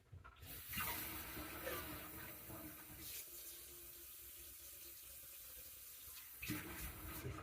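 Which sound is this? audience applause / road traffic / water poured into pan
water poured into pan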